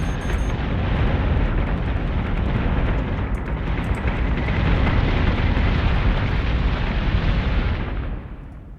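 Warship secondary gun batteries in Battlestar Galactica Deadlock fire at will in a dense, continuous roar of overlapping blasts and rumbling booms that stays loud throughout, then fades away at the end; no talking.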